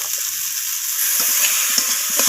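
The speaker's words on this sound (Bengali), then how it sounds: "তো সমস্ত কিছু আবারও কষিয়ে নিচ্ছি।" Eggplant and egg being sautéed in a pan, a constant close sizzle with short scraping stir strokes and no talk.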